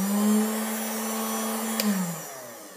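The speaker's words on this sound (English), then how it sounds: "As you guys can see with my heat gun, it got nice and warm." A handheld heat gun blows hot air with a loud, steady whirring fan drone close by, then winds down as it switches off near the end.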